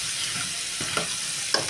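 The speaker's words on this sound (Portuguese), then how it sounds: "Ainda tá refogando aqui. A cebola agora que está começando a dourar, tá?" Onion sautéing in a pot, just starting to turn golden: a steady close sizzle with a few soft stirring scrapes and clicks, no voices.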